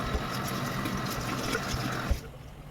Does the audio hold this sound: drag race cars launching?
no